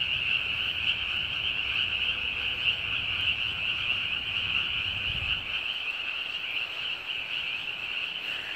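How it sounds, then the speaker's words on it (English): Tree toads just out of hibernation form a dense chorus of continuous high trilling croaks, steady and close, filling the whole stretch without pause. "Listen to those tree toads."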